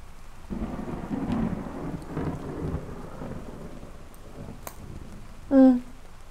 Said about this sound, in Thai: งั้นคุณรอฝนหยุดก่อนไหม